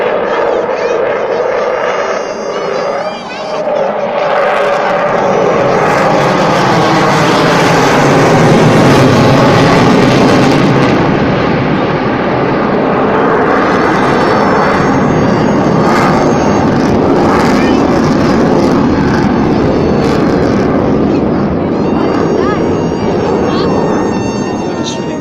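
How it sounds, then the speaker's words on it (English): A Flanker twin-engine fourth-generation fighter jet flies past at the Malta Air Show, a loud broad jet roar swelling and sweeping over about twenty-five seconds, with turbine whine shifting as it passes. "flanker in NATO code, is a two-engine fighter plane of the fourth generation"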